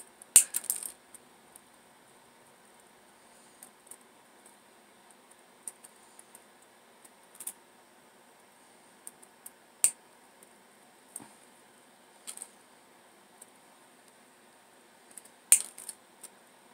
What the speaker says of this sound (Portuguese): Agora eu vou cortar esses pés aqui.